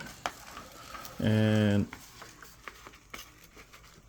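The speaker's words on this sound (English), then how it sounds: "So we're gonna put the boiling hot water in there" Boiling water is poured into a pouch of freeze-dried Spicy Southwest Style Skillet meal, making a short, loud, resonant pouring burst of about half a second amid quieter handling noises and speech.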